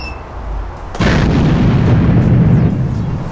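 A toy space rocket launches with a sudden loud blast, followed by a sustained roaring rumble that stays heavy and close for a few seconds before easing slightly.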